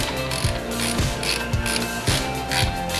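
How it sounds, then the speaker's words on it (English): A screw is backed out with a ratcheting tool during a flat-screen 4K TV mount installation, producing a loud, steady run of clicking pawl ratchets with periodic thunks as the handle is reset. "now that we put the screw all the way in, we're going to go ahead and take it out"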